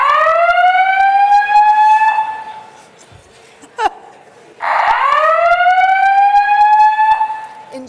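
A hotel fire alarm siren sounds loud and close, two long rising whoop sweeps separated by a short pause, with a brief clack between them.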